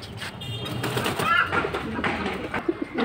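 Pigeons of mixed fancy and high-flying breeds cooing softly at a sale, their low murmurs blended with background noise and faint voices.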